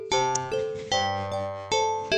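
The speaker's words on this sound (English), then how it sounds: "This sound like a knocking bell kind of irritates me." Resonant bell chimes from a cat game's soundtrack, struck in a slow repeating pattern with long ringing decays, several overlapping tones, clear and steady.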